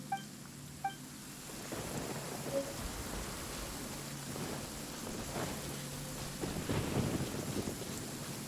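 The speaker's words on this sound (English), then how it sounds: "Thunderclap! Take this!" A thunderclap in Genshin Impact rolls as a low, distant rumble under steady rain and wind, with a couple of faint sharp ticks at the start and the storm building toward the end.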